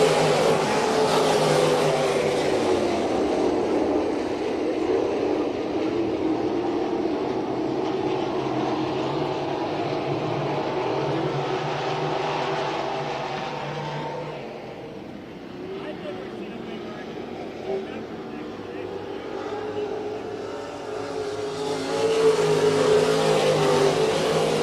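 Winged sprint cars, including 360 winged machines, race on a half-mile dirt oval, their engines roaring loudly and continuously as the field runs the opening laps, with an announcer talking over the steady engine noise.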